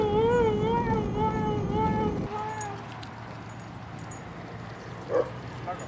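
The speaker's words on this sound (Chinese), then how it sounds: "这只哈士奇叫做格林，是吸引游客的临时工" A husky gives a drawn-out, wavering whine that lasts about two seconds, then trails off into quieter background sound with a brief faint yelp near the end.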